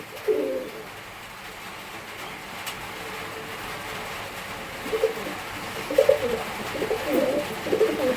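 Lotan pigeons, a breed with big feathered feet, give several soft, low coos at moderate distance over a steady background hum.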